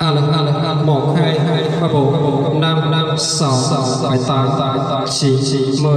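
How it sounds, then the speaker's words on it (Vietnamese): A man counts into a microphone on a portable party-speaker amplifier board with heavy reverb and echo, each number trailing off in repeating echoes, loud and close. "Giờ mình đẩy echo lên, gọi là tiếng reverb echo."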